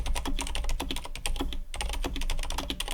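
Someone types on an IQUNIX L80 Cosmic Traveler mechanical keyboard before modding: a fast, close run of crisp, clacky keystrokes in a steady rhythm, with one short pause partway through.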